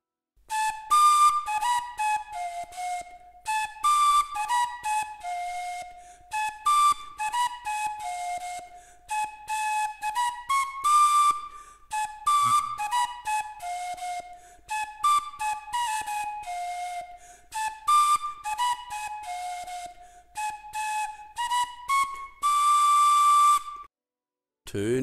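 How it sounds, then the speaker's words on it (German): A 3D-printed recorder plays a series of clear, breathy whistled notes in short melodic phrases with brief pauses between them, close and fairly quiet. "Und die Flöte klingt nun so."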